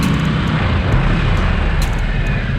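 A Harley-Davidson 975 Sportster Nightster motorcycle being ridden, its engine a loud, steady roar mixed with heavy wind rush throughout, with no speech.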